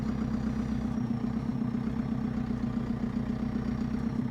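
A Land Rover Defender fitted with a JCB 4.4 industrial diesel engine runs steadily, a close, even low rumble with a gruff mid-range drone and no talk over it.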